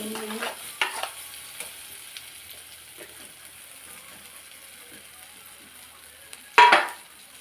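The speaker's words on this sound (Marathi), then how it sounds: "हे जे वाटण घेतलेलं आहे ते वाटण त्यात टाकायचंय" Ground spice paste drops into a frying spinach (palak) mixture in a pan, with a faint low sizzle, a few soft stirring scrapes near the start and one sharp clatter of a utensil near the end.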